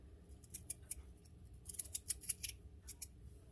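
Potatoes being cut up right in the pot for salmon chowder, heard as a series of quiet, crisp, close snipping clicks in irregular clusters over a low background hum, with no talk.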